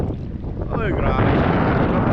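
Strong northeast monsoon wind sweeping in at sea, a loud, steady broadband roar buffeting the microphone, with a faint voice briefly rising through it and no clear words.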